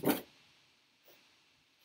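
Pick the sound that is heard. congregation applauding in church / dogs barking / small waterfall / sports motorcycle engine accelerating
dogs barking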